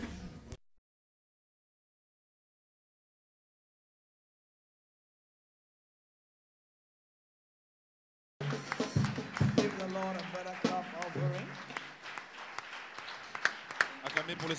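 Church congregation applauding at a worship event, a brief burst at the start, then silence, then a dense, loud spell of clapping and crowd noise that rises and carries on to the end.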